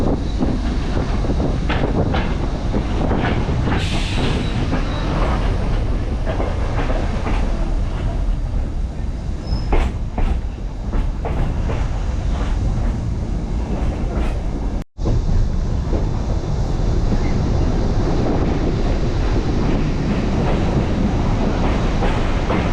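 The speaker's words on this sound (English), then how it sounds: "Videoing the train." Train on the Kuranda scenic railway rolls past close by, a long steady rumble with clickety-clack of wheels and wind noise throughout, briefly cut by a momentary dropout.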